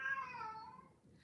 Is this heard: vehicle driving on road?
no